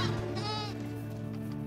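A genetically modified goat on a farm lets out a brief wavering bleat, close and moderately clear over a steady low background hum.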